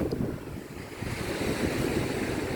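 Strong wind buffets the microphone on a Palawan beach while waves surge and wash ashore in a constant loud roar, with no pauses.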